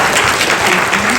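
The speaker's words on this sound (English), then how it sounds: "Do a round of applause, please." Audience at a TEDx talk in Naperville, Chicago, breaking into steady, dense clapping that fills the whole moment, loud and even throughout with no talk on top.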